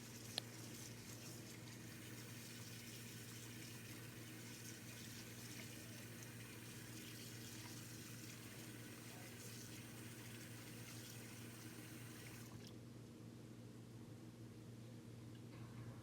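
Rice being washed in water in a home kitchen for chicken dum biryani, a soft, steady running-water wash like a tap filling a vessel, faint and continuous, changing tone briefly near the end.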